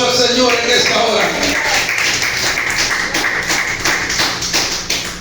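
A church congregation claps during a revival service, the dense rhythmic applause loud and close at first, then thinning into scattered claps over the remaining seconds with no talk.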